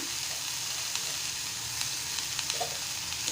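Taklyachi bhaji, a Malvani-style leafy vegetable dish topped with grated fresh coconut, stir-frying in a pan over gas: a steady, fairly quiet sizzle with faint scrapes of stirring, no voices.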